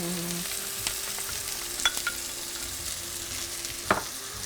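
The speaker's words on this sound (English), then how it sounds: "we're going to be adding in our onions and just frying these for about 5 minutes or so." Onions for shakshuka frying gently in a pan, a steady low sizzle with a couple of faint utensil clicks, heard alone without talk.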